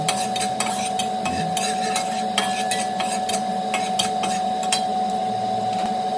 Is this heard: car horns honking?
no